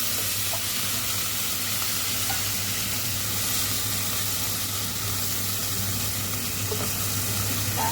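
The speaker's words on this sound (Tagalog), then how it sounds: "ilalagay na natin itong tuna" Tuna sizzles steadily in a hot pan while it cooks for a soup, a close, even frying hiss with faint stirring and no voices.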